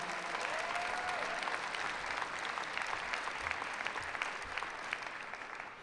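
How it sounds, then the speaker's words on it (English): Steady, dense applause from the audience at Manhattan Borough President Mark Levine's 2023 State of the Borough address fills the room, a loud, even wash of many hands clapping at once without a break. "Can you give them a big round of applause?"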